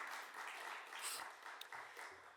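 A church congregation at a New Year's Eve service claps in a brief, faint burst of dense applause that fades after a couple of seconds.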